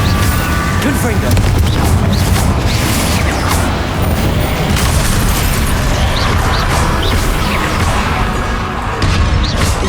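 An explosive spell in Hogwarts Legacy booms amid dense, loud combat noise, thick rumbling blasts and crashing impacts blurring together continuously, with a voice speaking over the din.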